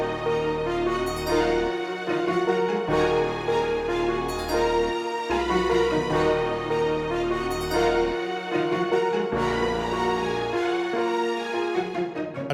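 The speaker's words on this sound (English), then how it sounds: "After that, I decided to add this really simple counter melody with the pizzicato." Layered Hollywood Strings violins play sustained chords with a plucked pizzicato counter melody from second violins bouncing over them, loud and continuous in a dark cinematic trap arrangement, with no voices.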